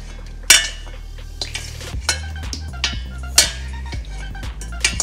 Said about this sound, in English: And we got the pasta in and now we're mixing it!